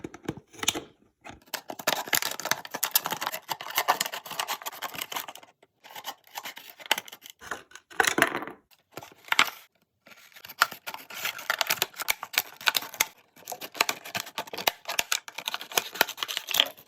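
Scissors cutting through a plastic drinks bottle for homemade protective gear, a long run of crunchy snips and crackling plastic with brief pauses, close up and moderately loud.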